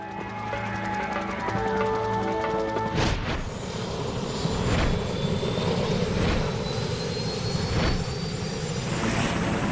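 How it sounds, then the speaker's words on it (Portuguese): A helicopter's engine roars loud and close, with a sudden surge as it lifts off beside the Akashi Strait in Japan and a steady thumping drone after. "O helicóptero levanta voo da lateral do Estreito de Kobe."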